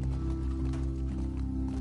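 A horse gallops in the PS4 game The Last of Us Part II, its hoofbeats running steadily and loudly within a dense, continuous game soundscape with no pause.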